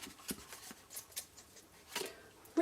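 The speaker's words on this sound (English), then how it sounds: "So when I cut it away, I might get a longer pair of scissors." A few soft, quick snipping sounds of scissors cutting paper, scattered and close in a quiet room.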